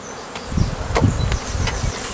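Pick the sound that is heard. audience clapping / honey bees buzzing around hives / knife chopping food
honey bees buzzing around hives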